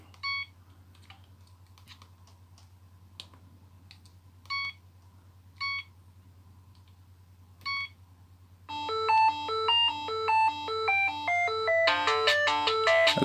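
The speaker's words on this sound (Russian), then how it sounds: "Это вот мелодии, которые хранятся в телефоне." A Siemens ST60 T-Mobile mobile phone beeps softly a few times at steady intervals over a low hum, then plays a bright polyphonic ringtone melody that grows louder near the end.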